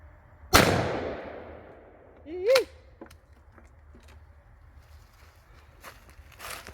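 A single loud shotgun blast at an outdoor 10-yard target range cracks sharply and rings off in a long decaying tail, followed by brief shuffling, a short voice and small handling sounds.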